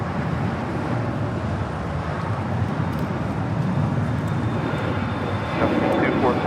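Jet airliners taxiing and roaring at LAX airport, a steady broadband rumble of aircraft engines filling the scene with constant loudness, distant traffic-like wash and a slight swell near the end.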